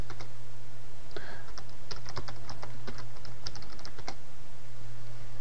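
A Linux terminal command being typed on a computer keyboard: a quick, irregular run of close key clicks over a steady low electrical hum, with no voice during the keystrokes.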